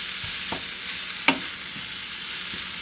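Noodles being stirred into a bolognese sauce in a hot pan make a steady low sizzle, with a few soft scrapes and one sharp clack of the utensil partway through.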